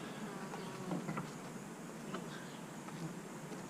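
Bees buzz steadily around a hive heavy with incoming honey, a continuous swarm drone near and moderate in volume, with individual insects passing by.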